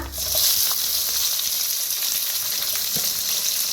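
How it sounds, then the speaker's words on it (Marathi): Garlic and onion frying in hot oil with roasted whole spices, a loud, steady, hissing sizzle that stays dense throughout, with a few faint ticks and no voices. "खडे मसाले सगळं भाजलेले आहेत, त्याच्यात टाकूया लसूण,"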